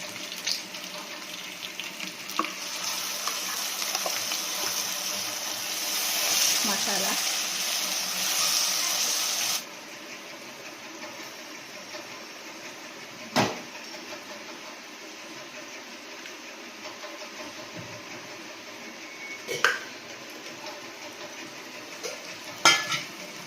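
A ground paste of peanuts, dried red chillies, cloves, cardamom, coriander, cumin and raw onion goes into a hot pan of fish curry. A steady loud sizzle lasts about ten seconds, then softer frying with a few sharp metal clinks.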